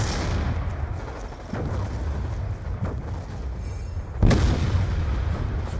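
A concussion grenade detonating in Call of Duty: Black Ops 2 multiplayer, with several booming blasts and gunfire spread across the moment, the loudest burst landing near the end.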